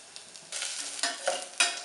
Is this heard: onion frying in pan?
yes